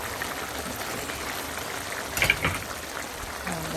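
Chow mein noodles drop into a hot pan of Guyanese-style mixed vegetables and minced beef in slurry sauce, giving a brief burst of sizzle and rustle over steady frying hiss.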